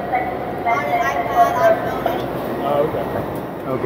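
Rumble of an express subway train in transit, a steady low roar with rail noise throughout as a person speaks briefly over it.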